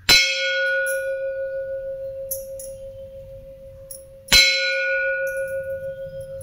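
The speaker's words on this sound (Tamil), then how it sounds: "கோயில் மணி மாரி சவுண்டிக்கு பாருங்க." An antique brass bell is struck twice, about four seconds apart, each blow a bright clang that settles into a long, steady ringing tone like a temple bell, loud and close with faint handling noise between strikes.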